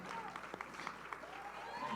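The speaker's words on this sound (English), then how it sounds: "Everybody give them a round of applause." Applause at a charity dance-competition event for a pair of dancers, a soft spread of clapping in a large room with a few distinct claps and background voices mixed in.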